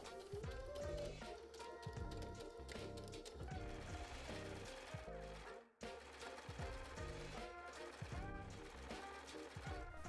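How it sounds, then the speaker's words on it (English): A sewing machine stitches a skort seam with a 3/8 inch allowance, a rapid rhythmic mechanical whirring and needle clatter running in bursts, close and loud, with one brief pause midway. "Pin them together and sew with a 3/8 inch seam allowance."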